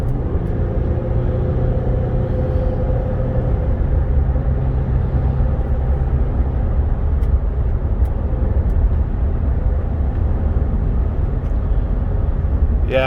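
A Ford Escape XLT V6 on a test drive, with steady engine and road rumble filling the cabin at a constant level, no voices.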